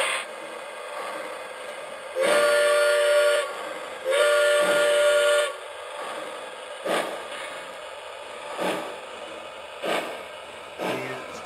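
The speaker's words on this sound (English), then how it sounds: "I'm running this prototypical toy train. Let's give it a drive-by and see what happens." A Z scale toy train runs past signal lights, with two long steady whistle-like tones early on followed by a series of short, evenly spaced clacks as it rolls by.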